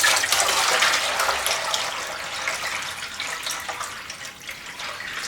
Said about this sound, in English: I'm about ready to fill it up.